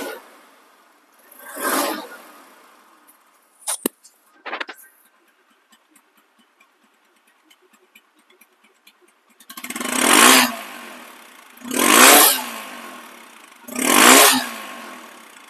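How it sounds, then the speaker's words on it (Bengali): A second-hand 2023 TVS Apache RTR 160 motorcycle in showroom condition revs up, with one early rev, a few sharp clicks, then three strong, evenly spaced throttle blips rising and falling near the end. "বাইকটি সাউন্ড কোয়ালিটি শুনুন"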